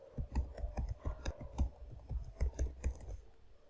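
Computer keyboard keys are pressed in a quick series of sharp, close clicks, with a Ctrl+V paste and the Enter key hit while working in a terminal on a Debian 12 system.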